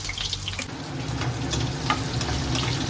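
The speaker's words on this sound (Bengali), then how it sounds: "প্রথমে আমি পেঁয়াজটা ভেজে নেব গোল্ডেন গোল্ডেন" Onions fry in hot white oil with a gentle, continuous sizzle and occasional soft stirring clicks, heard close and fairly quiet, without any voices.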